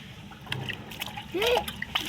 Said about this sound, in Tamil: தண்ணி தெளிச்சு விட்டு மறுபடியும் மூடி வச்சுக்கலாம்.